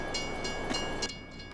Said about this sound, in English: for whatever reason, we have to turn the train on.